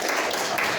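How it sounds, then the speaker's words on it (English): Brief burst of audience applause at an Alcoholics Anonymous speaker meeting in Flagstaff, Arizona, a steady patter of hands from a small room crowd, moderately loud and continuous. "You can clap for that."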